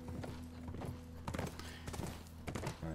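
Horse hooves clip-clop in The Last of Us video game, several close, crisp strikes in an uneven walking rhythm over a low steady hum.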